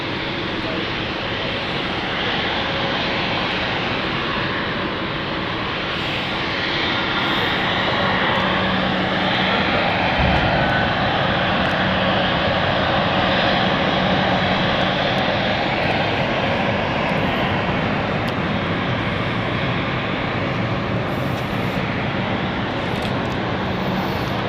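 Airliner jet engines roar steadily as a Seafly flight to Palma lines up at London City Airport, a loud, continuous broadband rumble that swells slightly midway and holds for the whole stretch.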